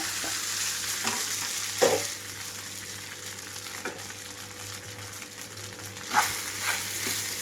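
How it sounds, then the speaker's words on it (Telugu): Rice rava is stirred into a tamarind tempering in a pan over low flame for rice rava pulihora, giving a soft continuous sizzle with a few louder scraping stirs. "ఈ రవ్వనంతా ఇందులోకి వేసేస్తున్నాను"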